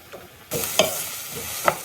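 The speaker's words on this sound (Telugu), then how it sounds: "నేనైతే ఆయిల్ వేసుకున్న తర్వాత ఆనియన్ ఇంకా పచ్చిమిర్చి వేస్తున్నాను" Onions and green chillies go into hot oil in a pan, a soft hiss that jumps to a steady sizzle midway, with a couple of sharp clinks from a spoon or pan edge.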